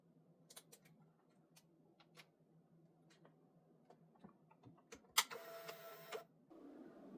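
A portable Bluetooth sticker printer prints stickers with soft irregular ticks and clicks, then a brief louder whirring feed of about a second, close and quiet, with no voices.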